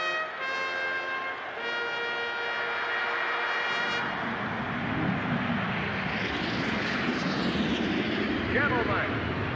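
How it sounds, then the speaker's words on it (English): Stock car engines in NASCAR Thunder 2004 at Darlington start with a pitched drone that swells into a loud, dense roar. Talk runs over the noise throughout. "Gentlemen, start your engines."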